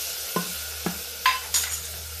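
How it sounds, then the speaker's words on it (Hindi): Turmeric, coriander and chili masala cooking in a pan for an aloo gobhi curry, with a steady low sizzle, two soft spoon scrapes against the pan, then a brighter burst of frying hiss near the end. "अब इस मसाले को हम पकाएंगे कुछ देर।"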